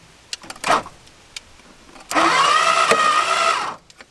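A seized Dodge Charger engine with no spark plugs is cranked over by the starter, a sustained whirring grind of about a second and a half following a brief earlier burst and a few clicks.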